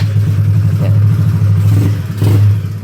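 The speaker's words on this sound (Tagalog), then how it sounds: "Medyo malagitik na yung makina." A small 188cc four-valve motorcycle engine idles and revs steadily up close, with a low throbbing pulse, a slightly rattly mechanical clatter and a short rise in revs near the end.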